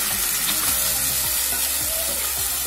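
Mashed broth poured into a hot pan for an Assamese dish of chengeri tenga with fish, a loud, dense, continuous sizzle with bubbling crackle close by.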